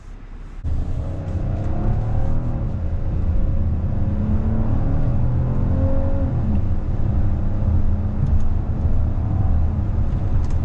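A 2026 Hyundai Palisade Limited AWD SUV accelerates hard in sport mode with manual shifting, its engine heard from the cabin as a loud, steady droning roar with rising tones throughout.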